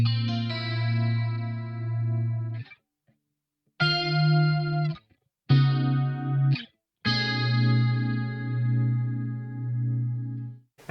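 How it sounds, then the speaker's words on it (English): A guitar played through the BOSS MD-500 tri-chorus effect rings out in several sustained, shimmering chords separated by short silences, with a wide, swirling modulated tone and a slight edge of grit. "the really exciting one is this tri-chorus"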